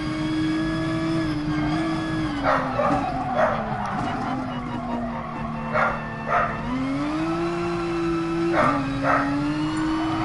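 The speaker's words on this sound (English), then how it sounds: "It's my dog barking." A dog barks indoors in short doubled yaps at three spaced moments, heard over the steady drone of a racing car engine from a GT Sport session.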